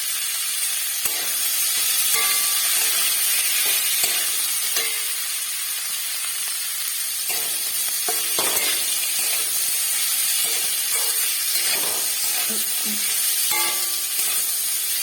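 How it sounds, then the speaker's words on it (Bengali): Green chillies and spices with asafoetida fry in hot oil for samosa filling, a steady, loud sizzle and hiss running throughout, broken by scattered clicks and scrapes of a spoon in the pan. "এইভাবে ভেজে নিয়ে আসছি"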